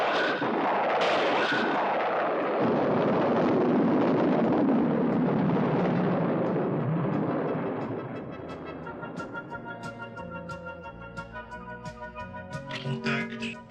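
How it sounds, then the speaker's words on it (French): Cartoon spaceship lift-off effect from the Transformers G1 animated series, a loud roaring blast with crackling rumble that fades after several seconds into lighter electronic tones and clatter. "Décollage."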